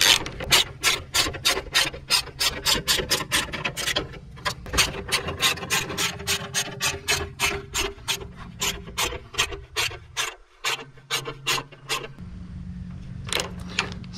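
Nuts on a boat trailer guide post are tightened with a ratchet, giving a long run of rapid, evenly spaced rasping clicks. The strokes come close and loud, pause briefly near the end, then finish with a few last clicks.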